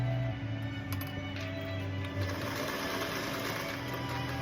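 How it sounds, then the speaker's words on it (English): A sewing machine stitches slowly around a fabric corner, its motor whirring in short runs with brief pauses, close and steady. "You just stitch slowly"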